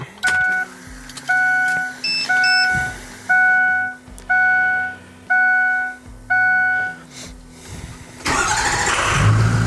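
A cold Ford 6.0 diesel truck sounds a series of evenly spaced dashboard chimes while the glow plugs warm, then cranks and fires into a loud, steady, rumbling idle.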